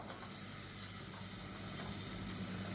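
Soaked vegetables frying in oil for South Indian brinji rice, a dense, constant sizzle with stirring, loud and close throughout.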